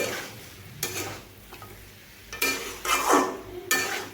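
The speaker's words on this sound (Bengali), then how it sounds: "গুঁড়ো গরম মশলাগুলোকে এইভাবে আমি মিশিয়ে নিচ্ছি" Ground garam masala is stirred into a papaya curry in a pan, with a spoon scraping and clattering against the metal in irregular bursts over a soft sizzle, close up and with no voices.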